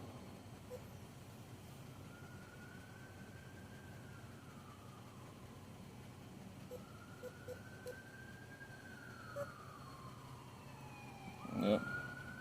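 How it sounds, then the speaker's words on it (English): A fire truck or ambulance siren wails faintly in the distance outdoors, sweeping up and down in long slow cycles over steady background noise, with a brief louder clatter near the end. "but fire truck or ambulance is going on."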